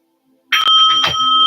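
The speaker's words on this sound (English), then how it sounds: "Sound the bell for the end of the meditation." A single bell is struck once to end a meditation and rings out with a clear, sustained shimmering tone that lingers without fading much, in otherwise quiet surroundings.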